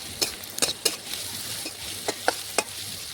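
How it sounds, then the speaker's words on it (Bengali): Chopped onions fry in hot oil with cumin, panch phoron and chillies, a steady close sizzle broken by several sharp spatula scrapes and clanks against the pan as they are stirred. "এখন নাড়াচাড়া করে পেঁয়াজটা একটু আমি লাল লাল ভেজে নেব।"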